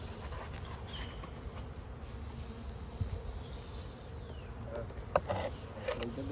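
Honeybees buzz around an open hive while a second brood box is added, a faint steady drone with occasional louder bees passing close and a few small clicks and knocks.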